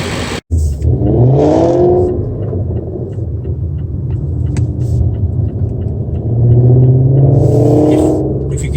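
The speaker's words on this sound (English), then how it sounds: "That was the sound of the Mustang in front of us." A Ford Mustang engine revs on the road just ahead, heard from inside a following car as a steady rumble that swells, eases off, then climbs again in a second, louder rev near the end. No talking.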